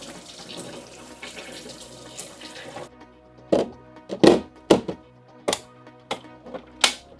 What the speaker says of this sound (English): but let's spin the one that I already made.